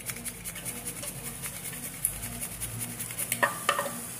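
A garlic clove frying in a spoonful of margarine in a pan, a quiet, continuous close sizzle with light stirring and a couple of utensil clinks near the end.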